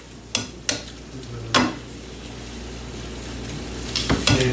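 Garlic sizzles in butter and olive oil in a pan, a steady frying hiss broken by a few sharp utensil clanks against the cookware, with no voices.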